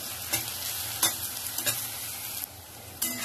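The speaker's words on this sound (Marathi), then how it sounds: "तर त्याला चांगले मी परतून घेणार." Onions sautéing with salt in a pan for chicken kosha, giving a steady close sizzle with several sharp stirring scrapes and clinks of a spoon at intervals.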